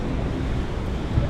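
Rough sea waves at Santander, Cantabria roar as a constant loud wash of surf mixed with wind buffeting the microphone.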